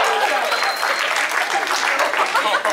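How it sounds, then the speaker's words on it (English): Audience members at a stand-up comedy gig in a San Diego wine bar clap steadily, a dense, fairly close burst of applause with murmuring voices underneath. "Folks are clapping at nobody."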